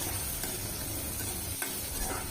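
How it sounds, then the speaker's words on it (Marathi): Chopped onion sautés in oil with curry leaves, giving a soft, even hiss of frying. A faint stirring scrape sits in the constant sizzle, heard up close at low volume. "कांदासुद्धा चांगला आपल्या गुलाबीपेक्षा थोडा जास्त परतायचा आहे"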